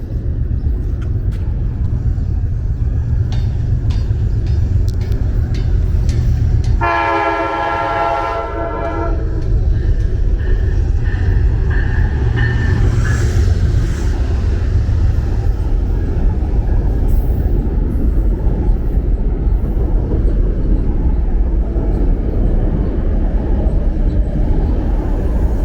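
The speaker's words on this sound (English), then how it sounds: "we will watch this train come in" A subway train pulls into an elevated station in Harlem, its steady loud rumble and squealing wheels running throughout, with a brief sustained horn blast about a third of the way in.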